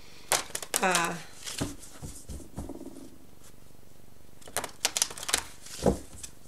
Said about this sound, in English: I'm going to be drawing 2 cards